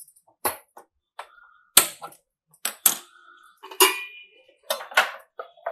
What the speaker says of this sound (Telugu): ఈ యొక్క బాణాల్ని పెట్టుకోవాలండి.